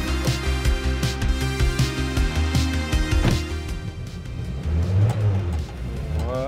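A Peugeot 205 Turbo 16 rally car on the Mont Ventoux road, its engine loud and close, revving in repeated rough bursts with gear changes, then a falling, whistling tone near the end.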